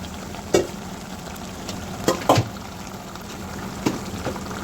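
Curry leaves frying and being stirred in a pan for a Telugu fish curry, with a steady low sizzle broken by a few sharp clinks and scrapes of the spoon at irregular moments.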